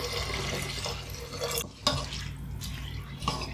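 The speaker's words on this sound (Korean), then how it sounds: "물을 부어줍니다" Water poured from a vessel onto drained glutinous rice soaked for yakbap, a steady close splashing wash with a brief dip and a couple of small clinks partway through.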